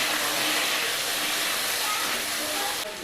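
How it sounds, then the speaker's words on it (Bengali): Potatoes fry in hot oil in a pan, giving a dense, steady sizzling hiss that runs throughout and dips slightly at the very end. "আলুগুলো লাল লাল করে ভেজে নেব।"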